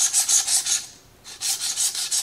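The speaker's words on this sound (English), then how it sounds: "Got another knife that I'm going to sharpen because none of my knives are sharp." A kitchen knife is drawn across a sharpener in close, raspy strokes, several in quick succession, a brief pause, then more strokes.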